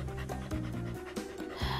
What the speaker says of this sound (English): Why is the pig panting?